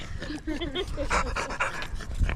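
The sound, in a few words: dog panting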